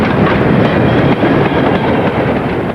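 A steam locomotive hauling freight wagons rumbles past loudly and steadily, wheels clattering over the rails in a continuous heavy roar, with no voices.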